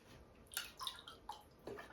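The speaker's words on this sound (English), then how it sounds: "I'm going to rinse these brushes out." Paint brushes rinsed in a water cup during acrylic painting, faint close splashes and drips in a few brief bursts over quiet background.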